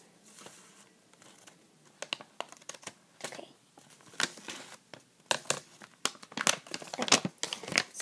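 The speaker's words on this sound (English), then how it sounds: "So I'm going to cut this open so I don't rip it." Scissors snip and plastic packaging crinkles as a small gift package is cut open, giving close, faint, irregular crackles and cuts that grow busier toward the end.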